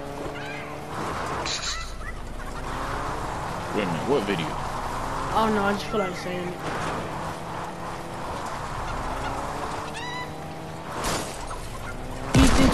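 Fowl-like honks and squawks from a chicken in a video game, in short bursts over steady game background noise, with someone talking and laughing throughout.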